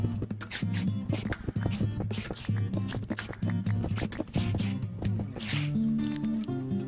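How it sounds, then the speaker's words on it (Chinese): Many spiders from a spider spawner on the Minecraft map UnderGround II, wet clicking and squishing hisses repeating irregularly over a steady game music backdrop, moderately close, with no talking. "很多蜘蛛的声音"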